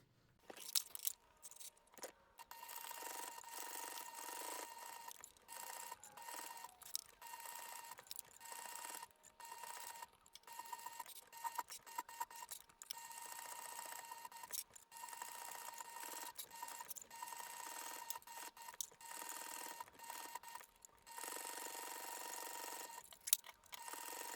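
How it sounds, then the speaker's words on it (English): A sewing machine runs in rapid mechanical bursts, its needle clattering steadily with brief pauses between stretches of stitching. "we're going to take it to the sewing machine"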